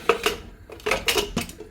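A metal lid set onto a pot of mutton stew, a few sharp clinks and rattles of metal on metal in close, irregular taps lasting under two seconds.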